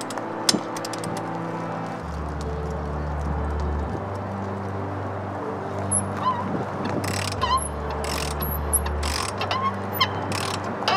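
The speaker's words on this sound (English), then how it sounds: "I'm gonna start with my ratchet wrench" A ratchet wrench works a painted-over outdoor hose bib, giving bursts of quick clicking ratchet strokes among metallic scraping and handling noises, with a low hum that switches on and off.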